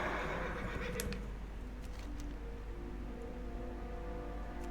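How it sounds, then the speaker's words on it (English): Silver Hand charger horse in World of Warcraft Classic, a brief whinny near the start over a steady game ambience, followed by faint background tones and no talk. "There's a silver hand charger here. I'll be munching on oats."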